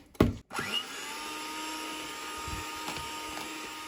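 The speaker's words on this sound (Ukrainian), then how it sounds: "наш секрет пюрешки ось такий міксер з такими вінчиками. Зараз ми все це перебиваємо" An electric hand mixer with wire whisks whips boiled potatoes into mash, starting with a couple of sharp knocks before settling into a steady, close motor whine with occasional clatter of the beaters against the bowl.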